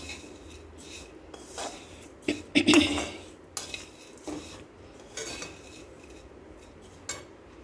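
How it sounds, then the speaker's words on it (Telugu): Vermicelli being stirred and roasted in ghee in a pan, a spoon scraping and clinking against the metal in uneven strokes with one louder clatter, close and without speech. "ఇది ఇలా నెమ్మదిగా కలుపుతూ ఉంటే కొంచెం కలర్ మారితే సరిపోతుంది."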